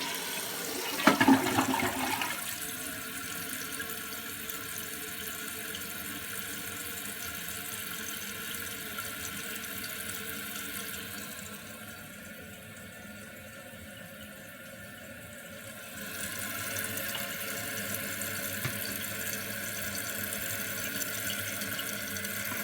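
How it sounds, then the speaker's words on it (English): A Kohler toilet with a canister-style flush valve and newly replaced seal flushes in a long, steady rush of water that dips briefly before the refill resumes, close and continuous for over twenty seconds. "Let's test it out and flush the toilet."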